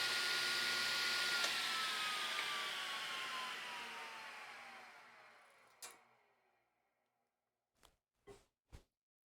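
A shop vacuum hums loudly after a wood saw cut, its steady roar slowly winding down and fading out, followed by a few sharp, isolated clicks and knocks in near silence.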